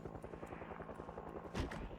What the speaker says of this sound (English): It's getting ridiculous how long this helicopter is going to just hang around.